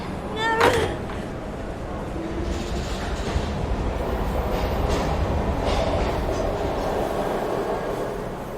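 A train in the video game Heavy Rain rumbles steadily with a broad rolling roar and faint rhythmic rail clatter, a sharp metallic squeal near the start, continuing without pause throughout.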